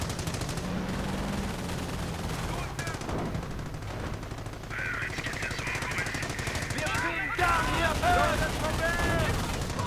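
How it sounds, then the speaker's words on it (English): Sustained bursts of heavy machine gun fire rattle through a dense video game battle, layered with explosions, flames and other gunfire, while a commentator talks over the action. "Heavy machine gun there to support the front line."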